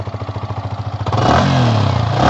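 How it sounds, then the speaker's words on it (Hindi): A motorcycle starter cranks in rapid pulses, then the engine catches and settles into a loud, steady running rumble close by. "अब मैं इसको स्टार्ट कर देता हूँ"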